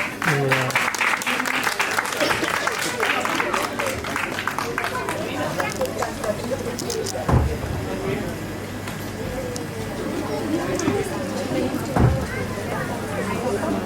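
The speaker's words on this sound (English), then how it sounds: "Give a big round of applause." Audience applause at an annual academy event, a crowd clapping quickly and thickly for the first few seconds before thinning into scattered claps, murmur and chatter, with a couple of louder thumps and voices over the background.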